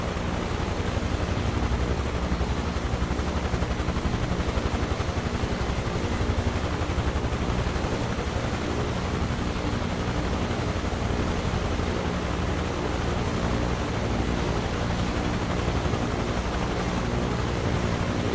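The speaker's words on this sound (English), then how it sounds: "Is that a Huey? UH-1 Iroquois, man." A UH-1 Iroquois Huey helicopter in Microsoft Flight Simulator, with a loud, continuous rotor and turbine drone that holds steady and dense throughout, close and alone with no talking.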